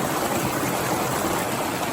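Water rushing steadily through a small stretch of creek rapids in Wisconsin, with ice building along the cold stream, making a continuous broadband hiss and burble, close and even, with no talking.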